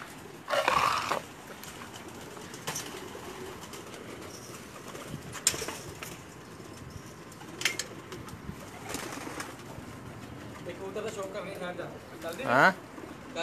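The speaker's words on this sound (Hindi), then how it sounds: "ये उड़ने वाले कबूतरों का सेटअप है।" Pigeons in a Pakistani loft of flying pigeons, soft cooing and occasional wing flutters scattered through the scene, with people talking nearby and some background noise.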